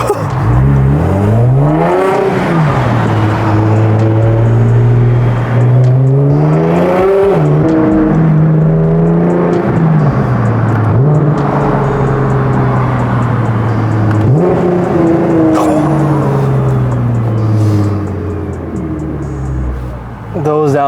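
Catless full bolt-on Nissan GT-R R35 engine revving hard and dropping through downshifts, loud and close, with repeated rising and falling pitch sweeps over about twenty seconds.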